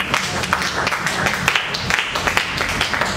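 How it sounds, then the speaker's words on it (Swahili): A church congregation claps during a Friday worship service, uneven sharp claps in a rapid rhythm, fairly close and loud with no talk over it. "Tupe Yesu makofi utukufu"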